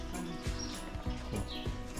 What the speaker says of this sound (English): You hear all those birds there?